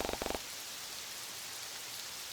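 Rain from the visual novel 14 Days With You falls as a steady, even hiss throughout, preceded by a brief burst of rhythmic tapping at the very start.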